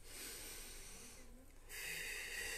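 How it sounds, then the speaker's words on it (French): Deep breaths drawn during a laughter yoga session: a faint, breathy inhale and exhale with a soft hiss, close and quiet, with the airflow swelling again near the end. "Vous faites 2 respirations."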